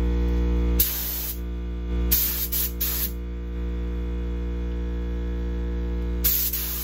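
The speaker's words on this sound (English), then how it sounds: "I'll spray through a few times since I have it hooked up to the compressor" A spray gun hooked up to an air compressor blasts through its nozzle in short hissing bursts during cleaning, with a steady electrical hum running underneath; three or four separate sprays, loud and close.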